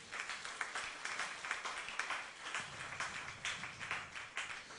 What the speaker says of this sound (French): Applaudissez un peu Jéhovah